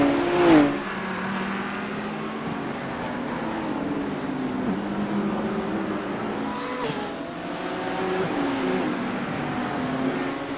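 Race cars circuiting Imola, BMWs among the field, drone steadily with shifting engine tones and occasional passes, continuous and moderately loud without speech.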